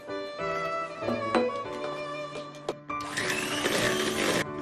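An electric hand mixer whips egg whites with sugar for a cloud soufflé, its steady motor whine rising louder and brighter toward the end, with a few brief knocks of beaters against the bowl.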